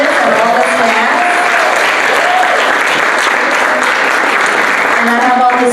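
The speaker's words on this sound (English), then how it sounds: "can we give you another round of applause for preparing all this and all the snacks?" Loud, sustained applause from a crowd at a tea ceremony demonstration, dense clapping throughout with a few voices faintly mixed in.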